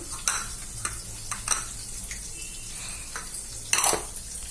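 Tempered fruit curd rice with chopped coriander gets mixed in a pan, soft stirring scrapes with a low sizzle underneath and a few sharper clinks of a spoon against metal.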